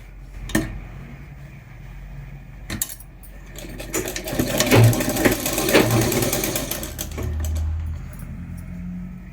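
A sewing machine stitching a churidar seam, starting with a few sharp clicks and knocks, then running in a steady mechanical whir with rapid rhythmic needle ticks through the middle before slowing off.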